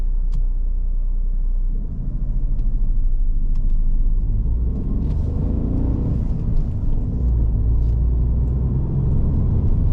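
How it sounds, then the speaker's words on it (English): A car sits idling in first gear at traffic lights with a steady low engine rumble close by, and the engine note shifts slightly as traffic around it begins to move. "I'm trying to keep my car moving as best as I can."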